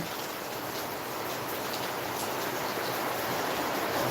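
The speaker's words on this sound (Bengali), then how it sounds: "বাইরে বৃষ্টি হচ্ছে" Rain falls outside in a dense, continuous wash of drops on surfaces, steady and fairly loud throughout with no voices.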